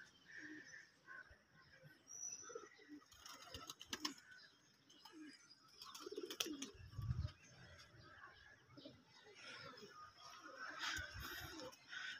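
Pigeons coo softly in a loft, low murmuring calls recurring at a moderate distance amid scattered clicks and rustling, with a person talking quietly at times.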